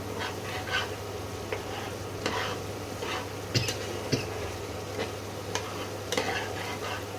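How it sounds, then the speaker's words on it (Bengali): A spice paste (masala) for mustard-poppy fish curry fries in a pan with a soft continuous sizzle, punctuated by repeated scraping stirs and light clinks of the utensil against the pot, close and fairly quiet. "এবার মশলাটাকে আস্তে আস্তে কষাতে হবে।"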